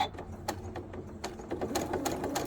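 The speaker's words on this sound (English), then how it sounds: "Let me sew onto an ender here." A sewing machine stitches fabric corner to corner to make flying geese quilt blocks with the stitch-and-flip method, giving a steady, close mechanical whir with rhythmic needle clatter throughout.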